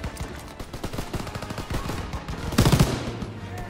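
An anti-aircraft machine gun in Call of Duty: WWII fires a string of fast, sharp shots over dense battle noise, ending in a louder close burst.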